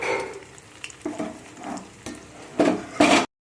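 Soybean chunks frying in oil in a pan for a home-style soya chilli, with bursts of sizzling and the scrape of stirring against the pan in uneven surges, loudest near the end before cutting off abruptly.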